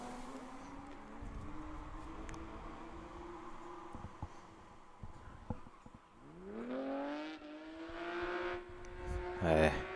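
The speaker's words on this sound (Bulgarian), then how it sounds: "Виждаме представителите на HC2 са това, тези два автомобила." HC2 class race cars at a hill climb, engines heard from a distance revving and rising in pitch as they pass, with a commentator talking over them.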